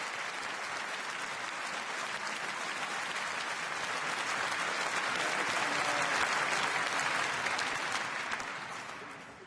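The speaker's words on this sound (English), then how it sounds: "Big applause for Gregory Goel and Howard Nilsson." Sustained applause fills Oslo City Hall at the 2012 Nobel Peace Prize ceremony, a broad, even wash of clapping from a large audience that swells slightly before fading near the end.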